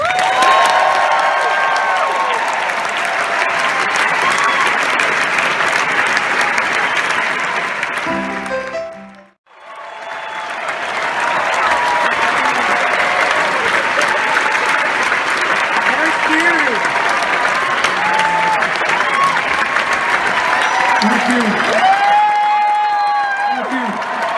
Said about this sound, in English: Let's give Elton John one more hand.